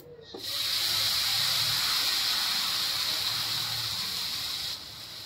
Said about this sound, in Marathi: आता हिला आपण दूध टाकूया।